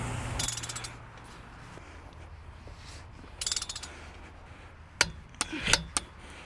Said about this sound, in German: Und jetzt müssen wir natürlich die, die Radmutter nachziehen mit dem vorgeschriebenen Drehmoment